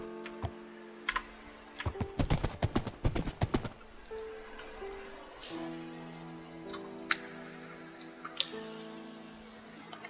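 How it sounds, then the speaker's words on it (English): Horse hooves clip-clop as a rider sets off in Minecraft, a quick burst of close, rhythmic hoof steps early on, followed by scattered clicks over a steady game background tone. "maybe I'll take a horse with me."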